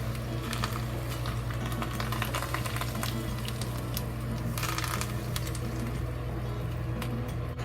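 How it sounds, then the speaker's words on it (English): Hot oil ladled over dried chili peppers and Sichuan peppercorns for a Chinese boiled pork dish, crackling in a steady, close sizzle with sharp pops throughout and no talking. "Then we add this hot oil on the top of the chili pepper and shrimp peppercorn on top of it."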